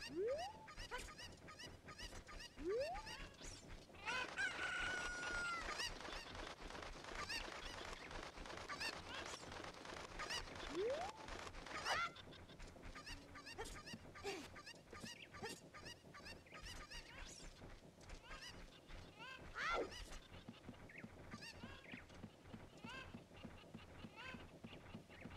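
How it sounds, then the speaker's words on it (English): Chickens in the Legend of Zelda: Ocarina of Time game cluck and squawk repeatedly over game sounds and music, with a person talking at times. "Go over there, chicken."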